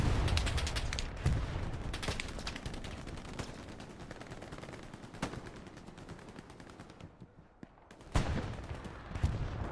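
Rapid volleys of rockets and gunfire crackle through a battle in the WWII shooter Hell Let Loose, with dense sustained bursts, a brief lull, then heavy booming impacts returning near the end.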